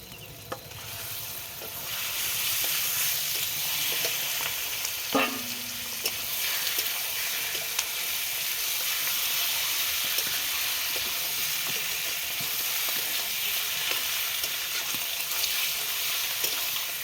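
Chicken pieces frying in oil with spices for a chicken curry give a steady, close sizzling hiss throughout, with a brief clatter of a utensil partway through and no voices.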